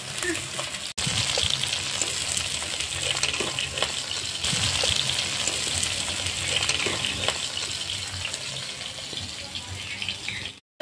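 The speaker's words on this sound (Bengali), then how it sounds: "মাছের মাথাটা ভালো করে ভেজে নেব" Rui fish head frying in hot oil in a home kitchen, a steady dense sizzle and crackle throughout, close and fairly loud.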